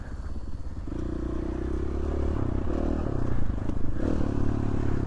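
A motorcycle rides a fast, flowy mountain trail, the 500 Trail through Idaho's Danskin Mountains, its engine droning steadily close up with a low rumble, rising slightly in revs midway, over rattling and scraping from the rough ground.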